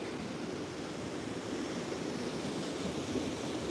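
Ocean surf washing onto a beach, a steady close wash of breaking waves with wind buffeting the microphone, no voices.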